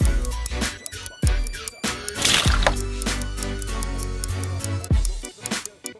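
Water swirling and sloshing inside a bottle shaken into a tornado vortex, close and wet with gurgles, drips and repeated knocks of the bottle.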